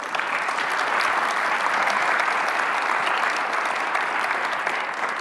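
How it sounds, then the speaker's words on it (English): Steady, dense applause from a conference audience after a presentation, loud and continuous throughout with no pauses or voices rising above it. "So it's extra round of applause for Doug and Jim."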